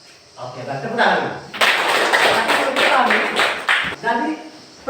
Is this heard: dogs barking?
no